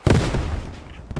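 A heavy, booming shot or blast rings out in the WW2 video game Post Scriptum, a loud close thud followed by a fading rumble and a fainter second report near the end.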